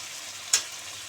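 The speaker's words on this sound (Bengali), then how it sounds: "এবার ভালো করে কষিয়ে নেব মশলাটাকে।" Masala spice paste frying in oil in a pan, a soft steady sizzle with a single brief sharp stir or scrape, close and quiet with no talk.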